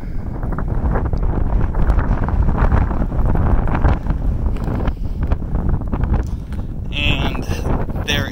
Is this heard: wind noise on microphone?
yes